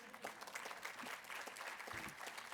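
Guests at a housing charity's annual benefit breakfast applaud together, an even, sustained patter of clapping that sounds quiet and somewhat distant.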